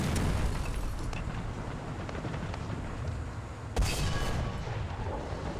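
A tank shell strikes in War Thunder around a T-34, heard as a continuous roar of battle with a sharp loud impact burst partway through, close and heavy over rumbling noise.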